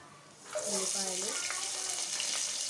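Onions drop into hot oil and ghee with mustard seeds and cumin for a vegetable biryani, setting off a sudden loud sizzle after a brief quiet moment that keeps hissing steadily.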